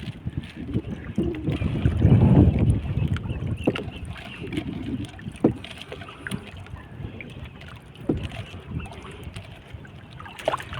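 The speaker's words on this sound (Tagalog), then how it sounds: "sinasagwan ko yung isa kong kamay" A small fishing boat paddled by hand on windy water, with low rumbling wind buffeting the microphone, splashing water and occasional knocks of the paddle against the hull, no voices.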